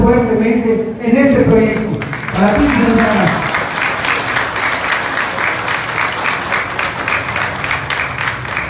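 A voice speaks briefly before the audience bursts into loud, continuous applause for an honored licenciada at a town ceremony in Tekit, the clapping filling the rest of the time.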